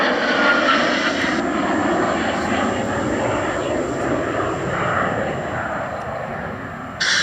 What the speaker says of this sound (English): lighting the afterburners on the two Eurojet EJ200 turbofan engines